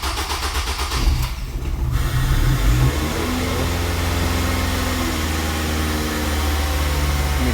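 A 2005 Ford Focus with newly replaced fuel injectors cranks and fires up, with a loud starter burst and rising rev, then it settles into a steady close-up idle.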